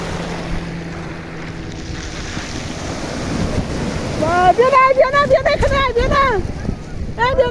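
Sea waves and wind at a beach make a steady, loud rushing roar with heavy wind buffeting on the microphone, joined midway by people talking close by.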